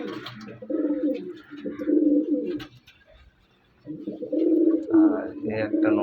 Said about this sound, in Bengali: এই একটা নর পায়রা, এদের মাদি পাচ্ছে না